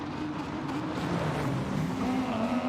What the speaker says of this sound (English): Can't hear you past the cars now